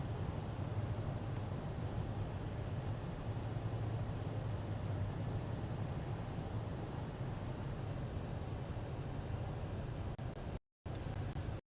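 An aircraft near an airport produces a steady, even drone of engine noise for several seconds, moderately loud and continuous, which drops out briefly twice right at the end.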